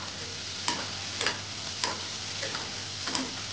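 Spice tempering with red chilli masala and coriander sautés in oil for a bottle gourd sabji, a low steady sizzle broken by about five sharp spoon scrapes at a slow, even pace, close and quiet, with no talking.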